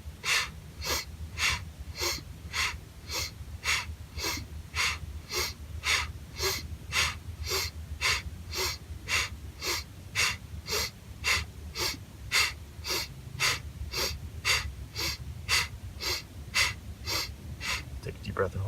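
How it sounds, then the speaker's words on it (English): Quick, deep bellows breaths in and out of the belly repeat in a steady, even rhythm during a meditation practice, each sharp forceful exhale and inhale close and loud, about eighteen in a row. "we're going to do some bellows breathing, which is just sort of a quick, deep breath in and out of the belly"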